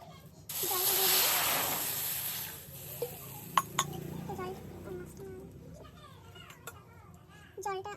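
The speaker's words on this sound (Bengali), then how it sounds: "কড়াইয়ের ভিতরে আমি জলটা দিয়ে দেবো।" Water is poured into a hot kadai over a fire, giving a brief, loud hissing burst near the start that fades within a couple of seconds, with some clinks and talk afterward.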